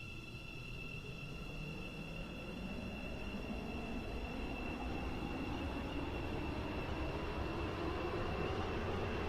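A six-coach metro train in the Roblox game Stepford County Railway runs along the track, a steady rolling rumble with faint high tonal whine and squeal, moderately quiet and unbroken, without voices.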